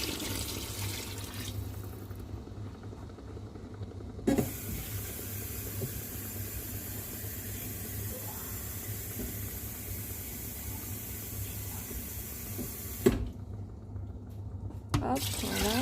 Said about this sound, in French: on va couvrir le tout avec environ 3 litres d'eau